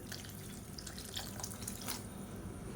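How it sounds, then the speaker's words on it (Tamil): Water pours steadily into a large cooking pot of sautéed spices and vegetables for Tamil kulambu, a continuous splashing, gurgling rush close by with no talk. "இப்போ தண்ணி சேர்த்துக்கலாம்."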